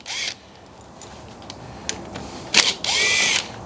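A power drill bores holes in a car's top hat suspension mount in short bursts: a whirring spin at the start, a few brief clicks and taps, then a longer, louder drilling run near the end.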